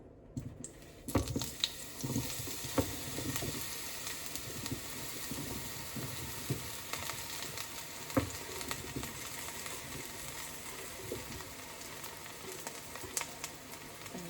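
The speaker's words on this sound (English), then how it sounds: "now we're gonna put some olive oil in the pan. And then we'll put all the eggplants in" Eggplants frying in olive oil in a home pan, a steady sizzle with scattered pops and crackles at close range, no talking.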